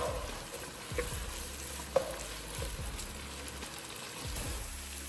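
Half a large onion with half a red and half a green bell pepper sauté in cooking oil in a pan for creamy pasta. A soft, continuous sizzle runs throughout with a few faint clicks of stirring.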